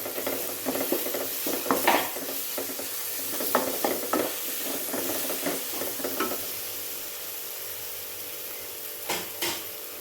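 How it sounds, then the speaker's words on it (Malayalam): Jackfruit seed masala sautés in a pan, giving a soft steady sizzle while a spoon scrapes and stirs in irregular bursts, then fades to a quiet frying hiss with a couple of final scrapes. "നന്നായി വഴറ്റി കൊടുക്കാം."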